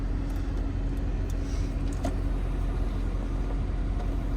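A Chevy Corvette Stingray convertible with a 460-horsepower 6.2-liter V8 idles in a steady, low, even rumble, close and unbroken throughout, with no voices.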